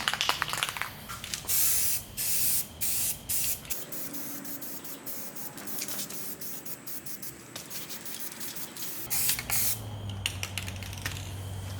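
Aerosol paint sprayed onto a freshly welded brace and tension rods for a RWD K-swapped Cefiro, loud close hissing bursts in a quick stuttering run of short blasts, then a long steady spray, then more short bursts.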